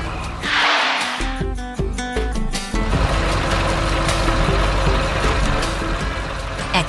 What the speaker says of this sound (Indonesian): Truk hijau dan biru itu datang membawa beban berat.